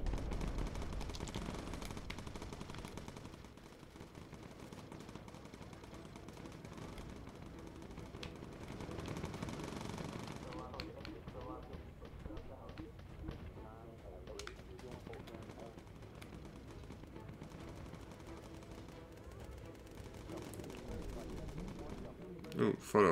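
Aircraft machine guns fire in the video game Bomber Crew, with rattling bursts over a rumbling background. They are loudest early on, and voices can be heard alongside.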